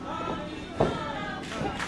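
A wrestling crowd at a women's wrestling show cheers in a brief, continuous swell with a sharp thump partway through, under commentator talk.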